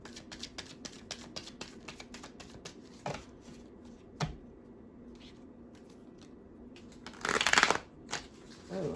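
Tarot cards are shuffled in quick, crisp riffles, with fast bursts of slapping card edges that come in runs, pause, then return. A louder flurry near the end stands alone.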